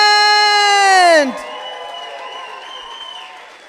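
An audience at a hall of fame induction night cheers, opening with a loud sustained whoop that falls away into steady clapping and crowd noise.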